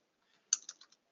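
A short burst of four or five quick keystrokes on a computer keyboard, soft clicks close by in a quiet room.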